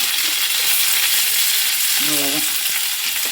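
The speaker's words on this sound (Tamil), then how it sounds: "இப்போ கடலைப்பருப்பு போட்டு கொஞ்சம் வெங்காயம், பச்சை மிளகா கொஞ்சம் பீட்ரூட் பொரியலுக்கு" Loud continuous sizzling of chana dal, onion and green chilli tempering in hot oil, with occasional stirring clicks and a brief faint voice-like tone midway.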